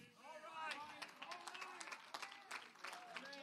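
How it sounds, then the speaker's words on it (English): Small church audience giving scattered applause, a handful of separate claps fairly close, mixed with soft murmuring voices in the room. "Well, I got about 7 claps on that."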